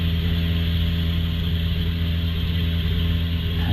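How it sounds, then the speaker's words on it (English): Race car engine at a Loton Park hillclimb event, a loud, steady mechanical drone and whir that holds an even pitch and level throughout, with no voices. "And it sounds absolutely brilliant, this car. Really howls."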